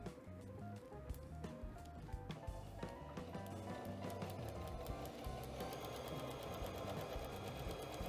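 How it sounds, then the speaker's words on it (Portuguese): Sewing machine fitted with a presser foot made for plastic, vinyl and leather, stitching a bag in a quick steady mechanical patter with small irregular knocks, fairly faint. "E repare que ela costura e acaba escorregando, né?"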